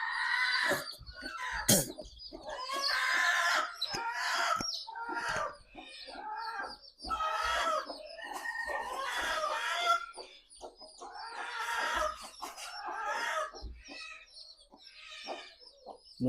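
Repeated clucking and chirping from a hen and chicks drinking at a small one-litre drinker nearby, bursts of short calls overlapping in an irregular rhythm with brief quiet gaps.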